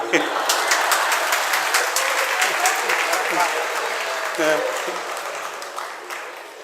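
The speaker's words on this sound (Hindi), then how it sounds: "फिर भी आपने मौन को, शांति को तो भंग कर ही दिया तालियों के द्वारा।" Applause from an audience after a Jain sermon in Shirpur fills the space, a dense, steady patter of many hands clapping that slowly fades toward the end.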